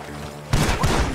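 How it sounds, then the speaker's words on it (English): Gunfire bursts from a barn in Red Dead Redemption 2, an abrupt loud volley cutting in after a quieter musical stretch and continuing in close, rapid shots. "Gunshots are coming from that barn."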